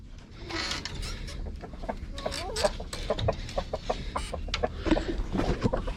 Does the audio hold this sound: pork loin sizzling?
no